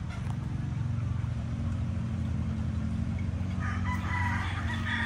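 Gamefowl stags crow and cluck in a pen while being hardened, a dense steady chorus of fowl calls close by with louder crowing toward the end, and no talk over it.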